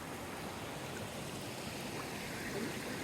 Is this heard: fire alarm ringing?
no